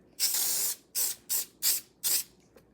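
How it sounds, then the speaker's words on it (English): Five short hissing bursts from a spray adhesive can, one longer followed by four quick sprays, close and fairly loud with quiet gaps between. "Okay, so it's just spray adhesive."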